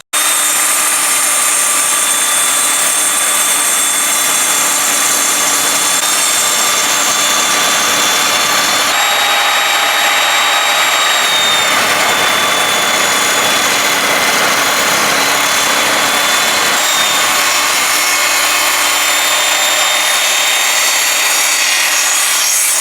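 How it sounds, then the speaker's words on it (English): A budget table saw cuts through thick plywood near its maximum depth, giving a loud, continuous high-pitched whine with steady rasping across the whole stretch and no voices. "So now let's bully something a bit thicker through the saw."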